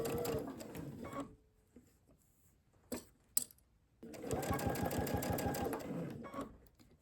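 A domestic sewing machine stitches a Dresden quilt tree skirt. It runs in two steady, rapid bursts of buzzing stitches, with a quiet pause and a few small clicks of fabric handling between them, heard up close.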